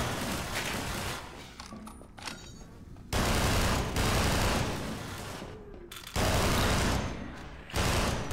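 Heavy-recoil weapon fire in Entropy: Zero, a Half-Life 2 mod, in sustained loud automatic bursts separated by short pauses, with faint mechanical noise between them.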